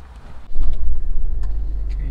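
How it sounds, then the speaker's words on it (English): A Honda CR-V engine turns over and catches about half a second in, then settles into a close, steady low rumble. "I'm going to turn on the engine and test the reverse camera"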